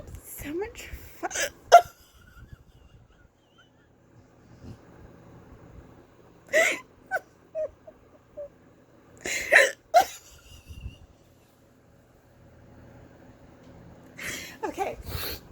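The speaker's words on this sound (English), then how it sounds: "having the hiccups is so much fun" A person hiccups indoors, sharp isolated bursts coming in small clusters with pauses between, close and fairly loud, against a quiet background with soft breathing.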